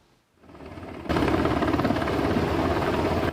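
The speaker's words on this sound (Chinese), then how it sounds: "直升机降落，核安演习人员斗3工，甲运送的物资做伙搬落来" A helicopter landing during a nuclear safety drill in the Hengchun area, its rotor roar building from quiet into a loud, steady, close wash of noise that holds to the end.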